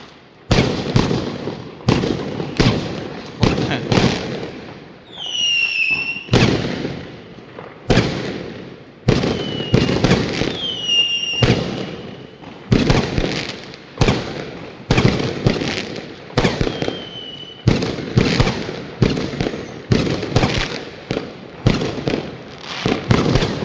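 Chinese New Year's Eve fireworks boom and crackle in a steady, repeated string of sharp bangs lasting over twenty seconds, loud and close, with a few whistling rockets rising between the blasts.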